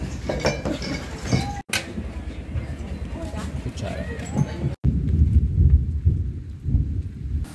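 Rain falls steadily with a low thunder rumble at a roadside eatery in hot weather near Preah Vihear Temple, Cambodia, a continuous broadband wash with faint clinks and voices in the background.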